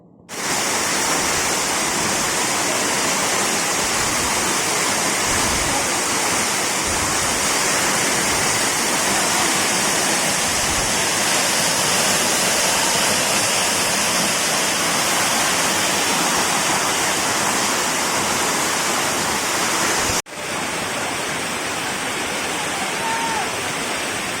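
Hidlumane waterfall on the Kodachadri trek roars as a loud, constant broadband rush of falling water heard up close, steady throughout with a brief dip near the end.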